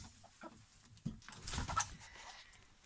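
Chickens cluck and stir in a compost chicken coop with a deep litter of manure, soft scattered calls and rustling rising to a brief louder burst midway, close by and without talk.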